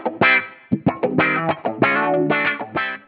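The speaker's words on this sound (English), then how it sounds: "if I want the studio reverb to happen before the compressor and the amp, I can place it up top here" Distorted electric guitar played through a Guitar Rig 6 amp with a compressor and studio reverb, strumming chords in choppy bursts with a chorus-like shimmer.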